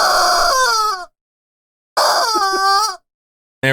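Active camo chicken in a Halo game crowing loudly in two long, strained cock-a-doodle bursts separated by a second of silence, with the start of a third cut off at the end.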